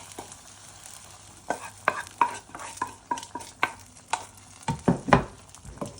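Hot tempering oil poured into a drumstick and dhal curry, then stirred, giving soft sizzles and a run of irregular clinks and scrapes of a spoon against the pot, close and moderately loud.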